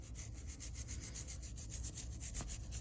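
Brush scrubbing old paint and grease off a vintage Aristo-Craft Camelback 0-4-0 model locomotive: quick, steady back-and-forth rubbing strokes repeat close by, with no voices.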